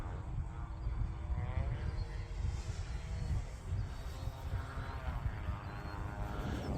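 A model warbird airplane flies under throttle over a cricket pitch, giving a steady, fairly distant propeller and engine drone with slight waver and no clear talking.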